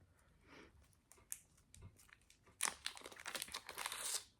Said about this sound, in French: Ah non, il a juste mis du papier bulle.